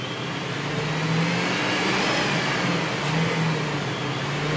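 A Lincoln Town Car with a fault that makes it stumble under throttle runs as the gas is eased on, a steady, rough mid-pitched engine drone with a slight rise, close and fairly loud.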